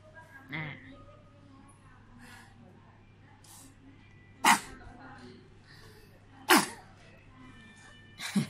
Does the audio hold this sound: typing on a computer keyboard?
no